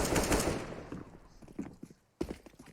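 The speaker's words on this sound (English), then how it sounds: "Daps is hearing all of this gunfire coming his way" Bursts of rapid automatic gunfire in CS:GO on the Inferno map, loud at first then fading into scattered, more distant shots and clatter, with a sharp fresh burst near the end.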